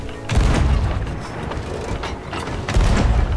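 Cannon fire aboard a sloop in Sea of Thieves: two deep, loud booms a couple of seconds apart, each followed by a rumbling tail over sea and ship noise, with no talking.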